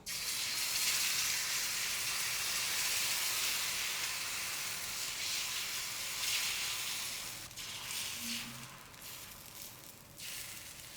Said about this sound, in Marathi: तवा चांगला तापून द्यायचा गॅस मोठा ठेवायचा आणि हे मिश्रण तव्यावर घालायचं